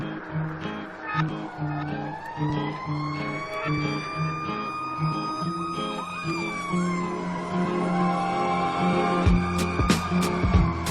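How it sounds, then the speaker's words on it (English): A wailing siren sweeps up and down as a vehicle passes, its pitch audibly bending downward, with traffic rumble underneath and no talking. "A train, car, or siren passes by us, and its pitch seems to bend"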